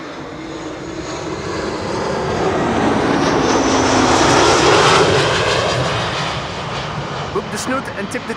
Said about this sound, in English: Lufty flight 988, A320, returning from Frankfurt